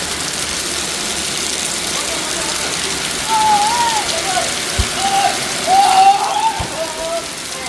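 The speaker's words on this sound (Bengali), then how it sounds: "কি জোরে বৃষ্টি নামছে।" Heavy overnight rain pours down on a wedding morning as a steady, dense rush of water. A person talks over it, and faint drips and clatters stand out now and then.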